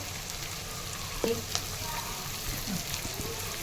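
Onion, garlic and green chili frying in hot oil for dal khichdi: a steady close sizzle with a couple of sharp clicks as the pieces are turned over.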